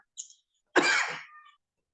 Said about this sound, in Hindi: थोड़ा खांसी आ रही सूखी